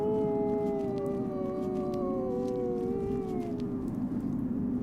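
Several long, wavering wolf howls overlap in a chorus, rising and falling together for a few seconds before fading out near the end.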